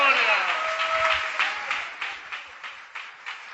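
A Pentecostal church congregation breaks into applause for Jesus Christ, clapping swelling and then thinning into scattered claps as a preacher's voice carries over it.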